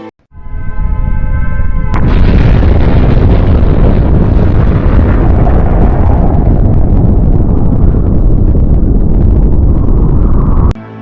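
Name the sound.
asteroid impact explosion on Earth's surface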